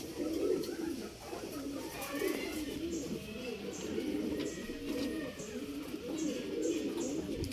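Bazai pigeons cooing in low, rolling repeated calls, close and continuous, with faint chirps and background noise mixed in.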